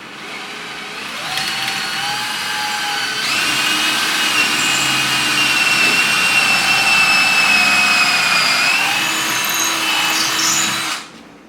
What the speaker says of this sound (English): I want to pre-drill so we don't split anything out.